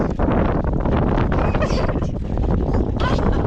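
Wind blows hard over a small fishing boat at sea, a steady close roar of buffeting against the microphone with rustling gusts and no clear talk.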